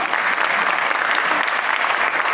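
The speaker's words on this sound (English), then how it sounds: "Let's give them another round of applause." Audience applause at the official closing of a UN-Habitat conference, a loud, dense and even burst of many people clapping, close and sustained without talk.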